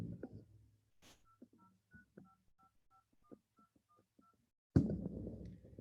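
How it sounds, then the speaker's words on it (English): A phone number is dialed on a touch-tone keypad, giving a quick series of short, evenly spaced DTMF beeps, quiet and clean against near silence, followed by a louder burst of noise at the end. "And those are touch tones"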